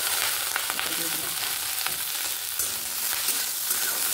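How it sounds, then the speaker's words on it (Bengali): Chopped potato and carrot hit a hot frying pan with onion in a home kitchen, giving a steady, loud, continuous sizzle and crackle of frying vegetables with no talk over it. "আলু আর গাজর যে সবজিটা কেটে রেখেছিলাম সেটা দিয়ে দিলাম।"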